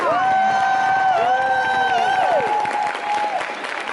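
An audience applauds and cheers as Melanie C comes on stage at a live stylist event. The clapping is loud and sustained, with whoops and sharp whistles from the crowd over it.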